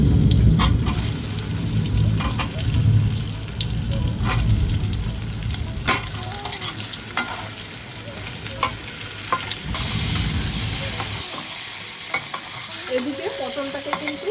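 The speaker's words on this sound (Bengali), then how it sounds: "এবার আমরা পটলগুলোকে ভেজে নিচ্ছি একে একে।" Pointed gourds fry in smoking-hot mustard oil in a wok with a busy, crackling sizzle and occasional stirring clatter. The sizzle fades toward the end, where a few faint clinks remain.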